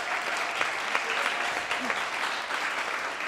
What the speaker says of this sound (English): Let's give a big hand clap to Nicole.